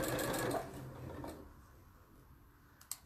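A sewing machine stitching a facing onto boiled wool whirs briefly up close, then slows and fades into near quiet, ending with a single sharp click.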